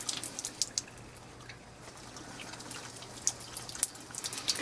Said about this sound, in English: turn it upside down, let all the water out of it.